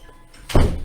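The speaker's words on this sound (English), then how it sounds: "And then close my door." A door being shut indoors, one dull, solid thunk that rings out briefly, with no talk over it.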